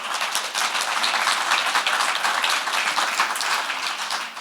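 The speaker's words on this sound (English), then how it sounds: "I think we can give another round of applause" An audience at an AI and climate talks session applauds the speaker David, with dense, steady clapping running the whole length of the moment without a voice over it.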